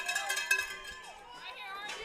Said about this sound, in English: Got some fans that are just getting their money's worth on making noise here in the park by slamming some stuff on the bleachers